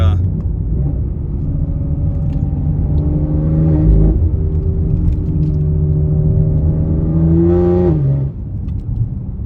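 A tuned BMW X3M engine revs and drones loudly and close, with rising and falling pitch sweeps over a steady rumble, ending with a climbing rev near the end and a sudden drop.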